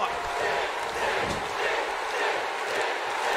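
Wrestling arena crowd in WWE 2K18 at a Great American Bash event in Cincinnati's Riverfront Stadium, a dense, sustained roar of many voices, steady and loud throughout.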